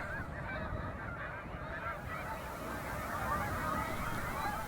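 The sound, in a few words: snow geese and Canada geese honking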